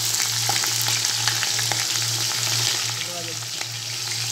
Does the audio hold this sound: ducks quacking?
no